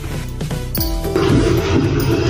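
A mixer grinder grinds soaked lentils with water for dosa batter, starting after a few thumps and settling into a steady, loud whirring roar that fills the second half.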